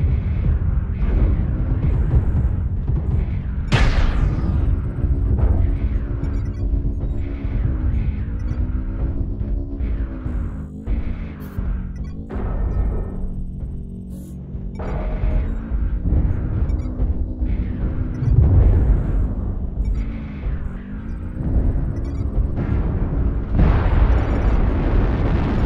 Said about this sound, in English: New target acquired. Artillery strike activated.